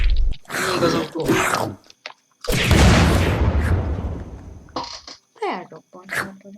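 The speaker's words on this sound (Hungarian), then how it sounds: "Elrobbant." A car exploding in the video game Unturned: a sudden, heavy, rumbling boom that fades over about a second and a half, with people chatting before and after it.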